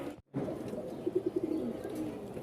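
Rajshahi colour-matching giribaz and fancy pigeons coo softly in a short run of low, rounded calls, faint and close in a quiet room.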